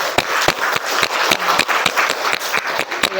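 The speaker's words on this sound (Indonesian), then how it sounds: "Tepuk tangan untuk Indonesia." An audience in an educational session claps together, a busy patter of many hands at close range, steady and moderately loud for several seconds with no talking.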